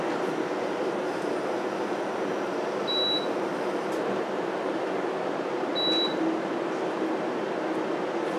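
A Danby 40-pint dehumidifier runs with a steady, even whir and airflow hum that holds unchanged from start to finish, with no voices over it.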